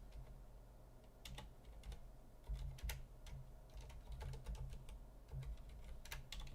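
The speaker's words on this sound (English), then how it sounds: "I'm typing, but my my mic's kind of in the way, so I'm like looking over it as I'm typing" Steady typing on a computer keyboard during a gaming podcast, with clicky keystrokes in irregular bursts close to the mic over a low background hum.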